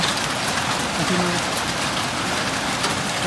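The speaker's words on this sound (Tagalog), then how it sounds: "malakas ang ulan. Tapos may kasama pang yelo." Heavy rain mixed with hail pours down in Taif, Saudi Arabia, making a dense, steady hiss and roar of drops with no letup. A voice is faintly audible under the downpour.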